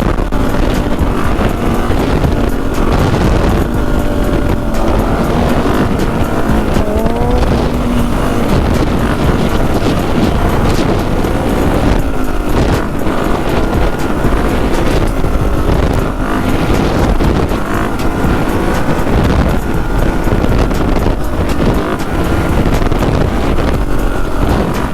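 A dirt bike rides through Chicago with a steady loud engine drone and shifting revs, heavily buffeted by constant wind roar on the microphone, with no pauses.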